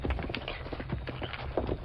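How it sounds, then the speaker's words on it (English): A horse runs fast along a rocky trail, its hooves drumming in a quick, steady clip-clop rhythm at moderate distance over a busy background. "look at that horse run"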